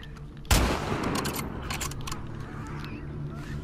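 A single sharp, loud sniper rifle shot from The Last of Us Part II gameplay, followed by a lingering rumble and scattered lighter ambient sounds.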